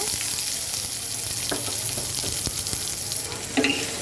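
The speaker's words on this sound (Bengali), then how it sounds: "পেঁয়াজটাকে আমি সুন্দর করে কয়েক মিনিট ভেজে নেব" Chopped onion and green chilies frying in hot oil seasoned with radhuni and nigella seeds, giving a steady close sizzle with a few sharp clicks of a spoon stirring against the pan.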